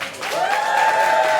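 An audience at a live comedy-style history event claps together in a short burst of steady applause that holds loud and even throughout.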